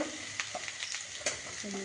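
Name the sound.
frying egg chowmein in a pan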